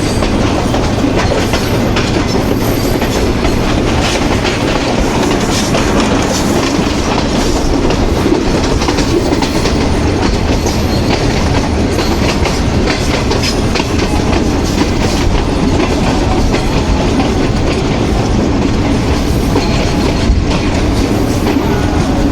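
A train at Malakwal railway station, rumbling loudly and continuously with a steady clickety-clack of wheels over the rails throughout, no voices.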